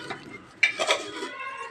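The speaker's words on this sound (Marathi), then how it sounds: "तर आता मी ही खिचडी छान परतवून घेते" Sabudana khichdi gets stirred in a pan with a spoon, a sharp metallic scrape against the pan followed by a few softer clinks and light rustling, close and fairly quiet.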